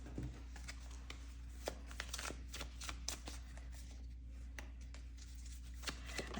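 Tarot cards are shuffled softly and close by, a steady run of light riffling clicks and flicks over a low, constant background hum.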